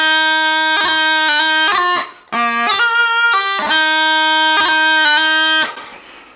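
Bagpipe playing a bar of the 9/8 march "The Battle of the Somme", bright reedy melody over a steady drone, with crisp note changes and grace-note cuts, loud and close, breaking off briefly midway.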